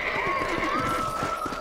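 Horses in Red Dead Redemption clop along at a steady gait and one whinnies, with a continuous tonal background running beneath the hoofbeats.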